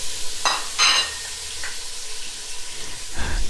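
Chopped tomatoes fry with onions in a pan as a spoon stirs them, giving close, intermittent scraping and sizzling bursts without any voices.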